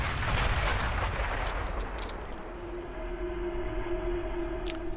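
Sniper rifle shot in the video game Sniper Elite V2, a loud deep boom at the start that rolls away into a fading rumble, followed by a quiet lingering hum and a few faint clicks.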